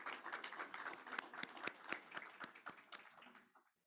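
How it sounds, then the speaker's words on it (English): Audience at a Holocaust remembrance commemoration claps, a fairly sparse, close round of distinct hand claps that holds steadily for a few seconds and then stops abruptly. "a round of applause for everyone that's with us"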